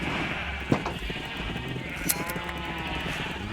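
A Minecraft sheep lets out a couple of short bleats amid quiet in-game ambience, with one sharper click-like sound near the middle.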